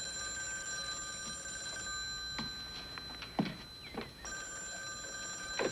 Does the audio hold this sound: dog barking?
no